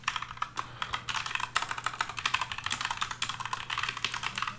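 Fast, steady keystrokes on a computer keyboard rattle close by for several seconds, typing an email and password, with no talking.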